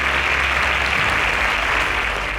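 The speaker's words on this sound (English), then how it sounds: "Round of applause for them." Studio audience applauding quiz show contestants, a dense, loud, continuous burst of clapping filling the whole stretch without any talk.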